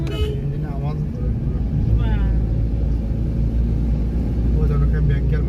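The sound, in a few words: vehicle engine running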